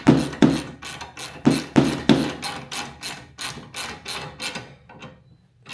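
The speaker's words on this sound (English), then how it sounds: "And now we can take our 17mm socket, which will go onto this hex standoff and our wrench we can stick in here," A wrench turning a 17mm socket on a hex standoff while fitting an aluminum bracket for a reelCNC Gen 3 conversion kit: a run of sharp ratcheting clicks and knocks in quick bursts, close and fairly loud, fading to quieter clicks at the end.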